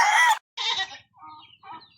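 A chicken clucks up close in a few short, separate bursts with brief pauses between them, loud at first and then softer.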